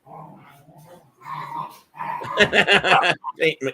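Dogs growl low at first, then break into a rapid, louder run of snarling barks and yelps toward the end, sounding close by.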